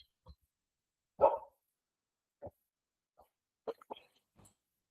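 A pet dog barks and whines at a homecoming, in a few short separate bursts with quiet gaps between them, moderately close in an otherwise quiet room.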